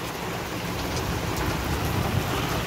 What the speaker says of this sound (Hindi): हमारे यहाँ कितनी बारिश हो रही है